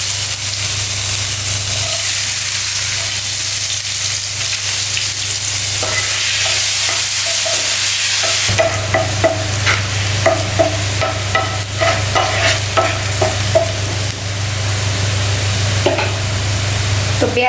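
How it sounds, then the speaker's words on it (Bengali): Chopped onions fry in a pan for a chicken and egg curry, giving a steady close sizzle that grows busier in the second half, with scraping stirs and crackles over it. "তো পেঁয়াজগুলো ফ্রাই হয়ে গেছে"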